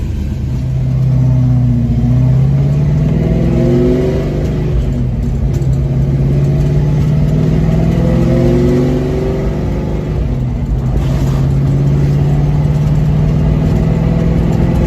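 A Ford Mustang Foxbody's newly installed engine idles loudly and steadily nearby, warming up, its low hum rising and falling slightly in pitch with brief revs, no talking.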